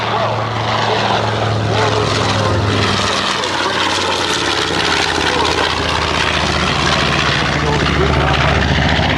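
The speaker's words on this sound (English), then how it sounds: "this very airplane, the later Strafer version of the B-25" Loud, steady roar of a B-25 bomber's propeller engines close by at an air show, droning continuously throughout with a deep rumbling throb.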